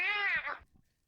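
A person imitates a cat with a single drawn-out, high nasal meow that fades away, followed by near silence.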